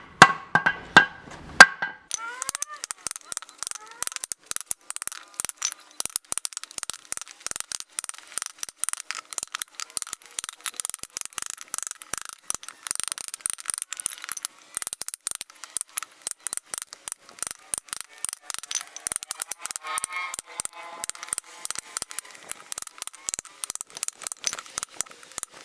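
A handmade knife forged from reclaimed sawmill steel chops through two sections of 2x4 wood, giving a long run of rapid, sharp, woody cracks and knocks that repeat steadily and fairly close for about twenty-five seconds.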